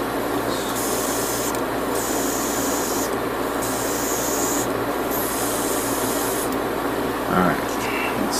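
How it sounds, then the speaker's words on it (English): Continuous hiss of a spray can applying paint to a part of an HG Gundam model kit, heard close and steady with short breaks between bursts. "When I was spraying it, I sprayed a little bit, but I need to do like a much larger coverage."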